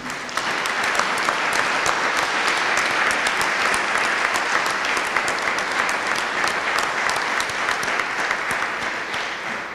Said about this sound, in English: So I think we have to have a special hand clapping